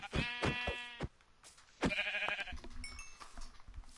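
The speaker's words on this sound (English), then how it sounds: "Sheep. I can get lamb chops." Sheep in a PS4 video game bleat in a few short wavering calls, close and clear, with a pause before a longer bleat and fainter animal sounds trailing after.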